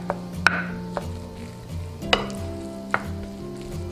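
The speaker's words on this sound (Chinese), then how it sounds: "一定要趁热给它搅拌。" Steamed glutinous rice being stirred hot with lard and sauce for pork belly sticky rice, soft mushy stirring with a few sharp utensil knocks against the bowl over a low steady hum.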